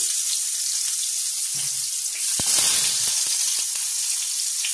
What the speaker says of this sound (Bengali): তেল গরম হয়ে গেছে, এবার আমি দেখুন বেগুনগুলো দিয়ে দিচ্ছি